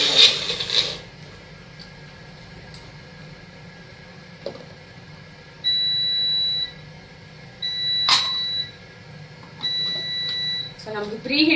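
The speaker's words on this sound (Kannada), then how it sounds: "ಸೊ ನಮ್ದು ಪ್ರೀ ಹೀಟು ಆಗೋಯ್ತು." A kitchen oven beeps to signal preheating is done, with a few short electronic tones repeating at intervals against a quiet room hum during a live cooking session.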